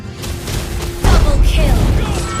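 Turret destroyed in Mobile Legends, a sudden booming explosion that kicks in partway through and rumbles on under game announcer voices and music.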